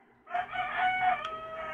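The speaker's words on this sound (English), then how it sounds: "Apology for those roosters." A rooster crows once nearby, a loud harsh cock-a-doodle-doo lasting over a second after a quiet start, with no voices over it.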